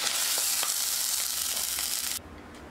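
Loud, steady sizzling of a spiced masala for chickpea curry frying in a pot, with soft stirring scrapes, cutting off abruptly near the end.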